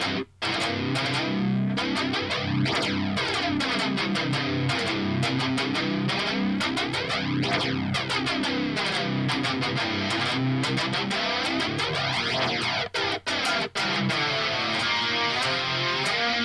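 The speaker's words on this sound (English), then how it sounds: "A lot of jet whoosh going on in that doubler right there." Distorted electric guitar through a Revv G120 amp with a tight doubler effect, strumming chords with a pronounced sweeping jet-like whoosh moving through the tone, loud and continuous with brief gaps near the end.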